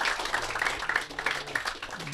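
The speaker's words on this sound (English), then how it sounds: "give him a round of applause as well" Young players at a football camp clap for a coach, brief scattered applause with voices talking faintly underneath.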